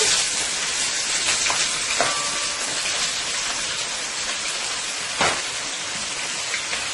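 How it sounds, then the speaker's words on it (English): Steady crackling sizzle of garlic frying in two tablespoons of hot oil in a pan, dense and close, with a couple of brief clatters partway through. "I have 2 tablespoons of oil heating in my pan right now. I'll go ahead and add some garlic"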